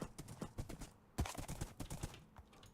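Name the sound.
horse hooves clip-clopping in a video game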